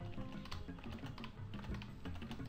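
Rapid, irregular clatter of fingers typing on a computer keyboard, close and steady throughout with no talking, during C++ OpenGL programming.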